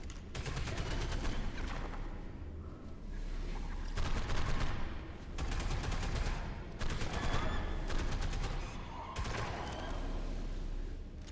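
In the Ark survival game, an automatic firearm fires in repeated sustained bursts, about five rattling strings with short gaps between them, against a low rumbling background.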